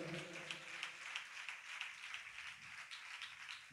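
A church congregation at a new year service claps loudly together, a dense, steady wash of applause filling the whole stretch with no pauses.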